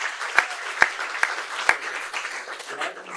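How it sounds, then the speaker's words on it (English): Audience at a city council meeting applauding, a modest round of scattered claps with a few sharper close hand strikes, steady for a few seconds and fading slightly toward the end. "let's give a round of applause, please"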